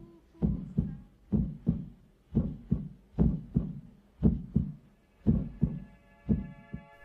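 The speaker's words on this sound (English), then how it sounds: "they may remember the sound of their heartbeat" A heartbeat thumping in a steady lub-dub rhythm, about a dozen deep, muffled double beats, alone, with a faint tonal hum rising beneath the last few beats.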